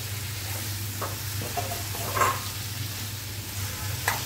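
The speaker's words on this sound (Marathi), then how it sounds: "पाच मिनिटं चांगला आपण परतून घेतलाय आणि हा घेवडा टाकूया आपण" Hyacinth beans (ghevda) fry in a pan, giving a low, steady sizzle with a few soft scrapes and clicks from stirring, close and fairly quiet, with no voices.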